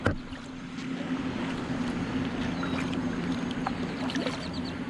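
Paddling a 2019 Hobie kayak on open water: a steady wash of water and wind noise with faint splashes throughout, a close, continuous hiss with no talking.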